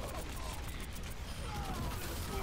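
Dense video-game gunfire and explosions streamed on an Nvidia Shield through GeForce Now, a constant loud, cluttered roar of blasts and shots with no clear gaps between them.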